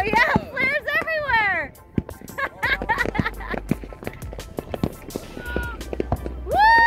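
Midnight New Year's fireworks and flares going off around a boat: scattered sharp pops and crackles at a distance, mostly buried under excited voices talking and exclaiming.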